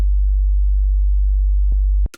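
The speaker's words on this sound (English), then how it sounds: "a lot of people tell you to use a sine wave," A pure, steady low hum held for about two seconds, then cut off abruptly with a couple of small clicks.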